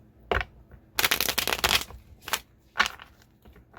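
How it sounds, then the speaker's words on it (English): Tarot cards being shuffled by hand, several short papery riffling bursts with a longer flurry in the middle, close up and alone with no talk. "One more shuffle."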